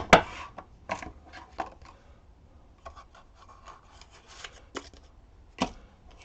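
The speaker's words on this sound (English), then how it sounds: "I just shuffled the cards and I put them back in the box." A deck of playing cards is shuffled at close range, with quick riffling bursts and soft rubbing and sliding between short pauses, set in a quiet room.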